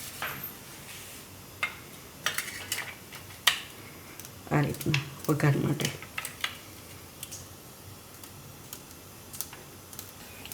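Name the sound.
chopping garlic with a knife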